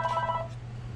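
A telephone rings with an incoming call, a brief electronic tone that stops after about half a second, over a steady low workshop hum.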